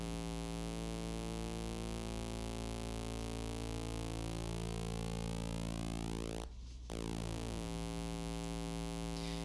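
A square-wave synth tone with a noisy character, built as a Lua Protoplug plugin, holds steady and loud while its pulse width sweeps, so the buzzy harmonics shift continuously, with a brief dropout near the end where the pulse narrows.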